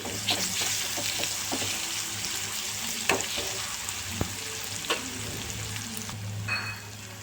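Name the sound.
ginger paste frying in a pan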